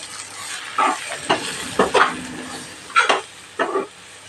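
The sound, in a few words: chili powder sizzling while sautéing for brinjal curry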